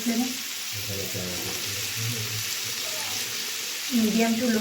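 Tandoori chicken, restaurant style, sizzles on a flame over medium to low heat with a steady, close, crackling hiss. A voice speaks over it at the start and again near the end.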